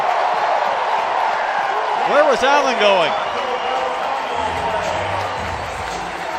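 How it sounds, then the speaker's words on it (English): Crowd noise at a college baseball game between Mississippi State and Arkansas rises after a big play, sustained and fairly loud throughout, with a commentator speaking over it and a sharp whoop-like swell in the middle. "you hear this crowd just erupt"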